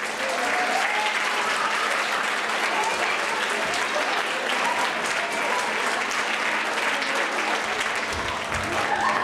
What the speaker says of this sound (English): Everybody start clapping now, clap.